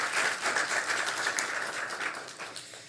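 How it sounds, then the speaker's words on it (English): Audience at a Constitution Day panel discussion claps for the panelists, a dense, even burst of applause held steady for a few seconds and gradually thinning toward the end. "can we just give everyone a big round of applause for our panelists?"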